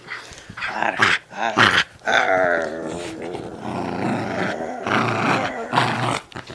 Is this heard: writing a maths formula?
no